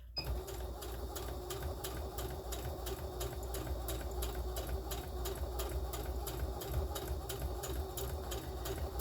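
A sewing machine stitches a child's tote bag with a fast, even run of mechanical clicks over a low motor hum, sustained close by without speech.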